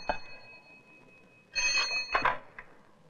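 An old-style telephone rings with two short bright trilling bursts at moderate volume in a quiet room, with a faint click before them.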